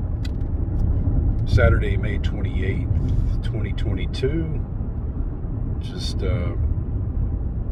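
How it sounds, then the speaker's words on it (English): A car drives along a Las Vegas road toward the Wynn Casino, with steady low road and engine rumble running throughout under someone talking close by. "Just driving, about to drive up to the Wynn Casino."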